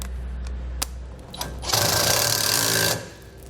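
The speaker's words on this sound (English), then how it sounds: "We can then tighten those down using an 11mm socket and wrench." An 11mm socket and wrench tighten a nylon locking nut while installing TorkLift lower overload springs: a few sharp isolated clicks, then a rapid, dense ratcheting whir lasting about a second, loud and close.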